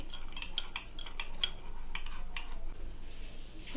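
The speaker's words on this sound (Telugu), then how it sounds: "దీన్ని కూడా మిక్స్ చేసుకుందామండి కలుపుతూనే ఉండాలి ఉండలు లేకుండా కలుపుతూనే ఉండాలండి" Custard powder mixture for homemade kulfi being stirred in a pan, with a run of quick metallic spoon scrapes and clinks up close, then fading to quiet.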